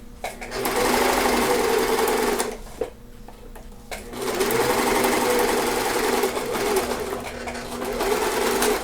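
A sewing machine runs loud and close as it stitches a simple facing, a steady fast mechanical whir broken by a brief pause near the middle before resuming continuously to the end.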